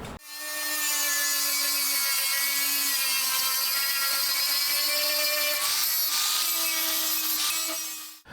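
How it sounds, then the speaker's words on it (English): An angle grinder works over the rusty sheet metal of a Chevy/GMC truck front fender, a steady, loud high-pitched whine with a harmonic drone, briefly dipping and catching mid-way before spinning down at the end. "just going to grind and look for where the rust edges are"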